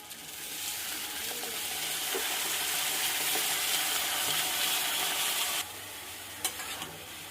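Cabbage frying with spices in fish oil, a loud steady sizzle with scraping stir strokes throughout that drops to a quieter hiss near the end, with a sharp clink close by.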